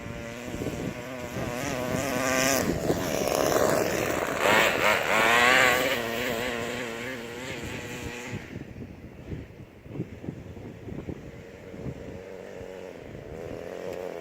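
A four-stroke Losi 8ight-T RC truck engine runs loud and buzzy with rising and falling revs and wind rush, then settles to a quieter, uneven idle with small sputters.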